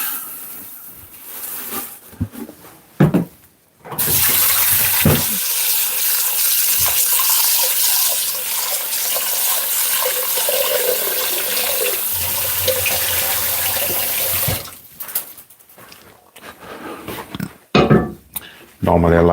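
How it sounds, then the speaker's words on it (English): Tap water pouring into rice being rinsed in a bowl, a steady close splashing rush lasting about ten seconds, framed by short bursts of handling and water noise, with a person talking briefly. "So I'm just gonna rinse some rice off quickly."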